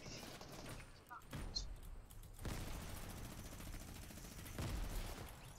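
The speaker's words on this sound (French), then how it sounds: "Waouh, ça tire de partout." Gunfire from several directions in a Fortnite match, faint bursts and thuds of shots with a few louder cracks, under quiet whispered talk.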